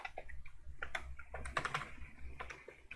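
Someone types a terminal command on a computer keyboard, a quiet, close run of irregular keystrokes with brief pauses between clusters of clicks.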